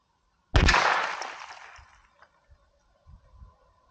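A single loud, sharp .22 solid point gunshot cracks close by and rings out into a fading tail, followed by a few faint knocks and thuds as glass fragments settle.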